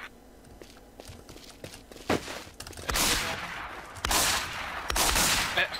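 Gunfire in the online zombie survival shooter Infestation: NewZ: several sharp shots and short bursts ring out among scattered footsteps and thuds, with loud volleys near the middle and end of the stretch.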